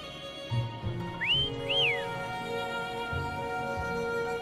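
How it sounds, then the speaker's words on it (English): A player whistles in the video game Wuthering Waves to call a companion: two short rising-and-falling whistle notes over continuous background game music, clear and alone without talk. "Why don't you call Foam over? Try whistling."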